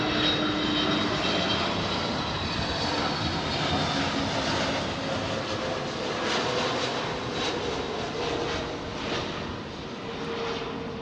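A TAP Air Portugal Airbus A320neo jet at London Heathrow at dusk, with a steady, loud broadband engine roar that swells and fades slightly across the whole stretch, no voices.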